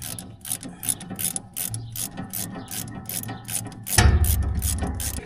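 Ratchet wrench turned counterclockwise to loosen a bolt, a rapid run of close, evenly spaced clicking pawl ticks, then a heavier low grinding thud near the end.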